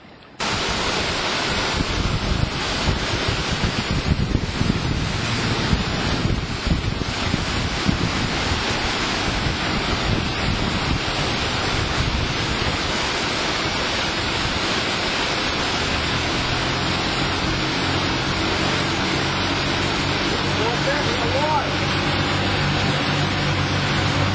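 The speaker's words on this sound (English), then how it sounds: "We're headed out, pretty good wind blowing here" Strong wind roars across a boat heading out near Red Bluff Bay, Alaska, a steady loud rush buffeting the microphone that eases a little toward the end, with no talk.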